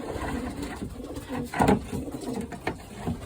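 Pigeons coo close by in soft, throaty bursts, a couple of louder warbling calls rising over a low background murmur.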